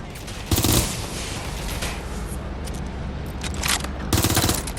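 Gunfire in the video game Watch Dogs Legion: a loud burst of automatic shots near the start and another near the end, with sustained noisy combat ambience between them.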